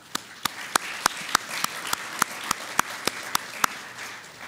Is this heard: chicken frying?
no